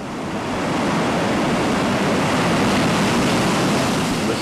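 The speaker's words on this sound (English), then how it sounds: "the waves are breaking outside at Jaws" Continuous roar of ocean surf breaking near the shore below Haiku toward Jaws in Paia, Maui, a broad steady wash of heavy waves rising slightly and holding loud throughout with no voices.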